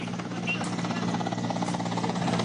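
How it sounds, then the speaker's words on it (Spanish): Steady buzzing drone of a helicopter arriving to evacuate people stranded after an earthquake in Nuevo Aserradero, Amazonas, a continuous engine hum at constant loudness with no speech. "Llega el primer helicóptero para evacuar a más de 300 personas varadas aquí en Nuevo Aserradero"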